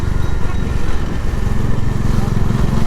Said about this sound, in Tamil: இங்கேண்ணா இவ்வளோ டிராஃபிக் ஆகுது